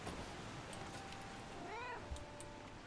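A cat meows in the video game Split Fiction, a short rising-and-falling cry heard once over a steady background of game ambience and music.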